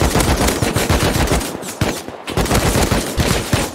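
Rapid automatic gunfire in the survival video game Rust, loud and close, continuous bursts rattling almost without pause, with only a brief gap midway and no talk.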